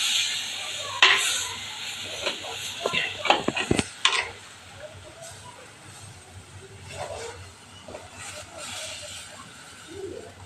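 Spoon scraping and clattering as threadfin bream fish curry is stirred in a pan, with a soft sizzle beneath, bursts of scraping separated by quieter stretches, close and moderate in volume, no voices.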